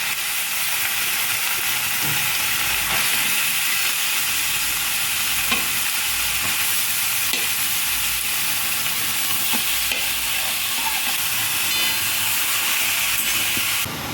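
Grated carrot frying in ghee with cardamom for gajar halwa, a loud, continuous steamy sizzle and hiss with light stirring scrapes, steady for the whole stretch with no voices.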